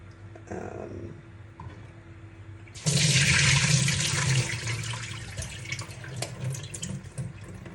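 Kitchen sink tap pouring water over food being washed for meal prep, a steady splashing rush that starts abruptly and keeps running close by without talk.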